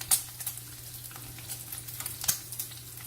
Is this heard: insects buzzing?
no